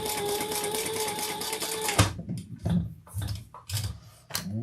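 A sewing machine runs steadily stitching a seam through foam, then stops and gives way to scattered clicks and handling noises, fairly quiet.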